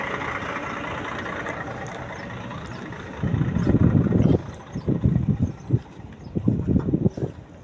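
A V6 car engine idles and runs under steady wind-like rumble, then grows louder and rougher in uneven surges partway through, close to the microphone.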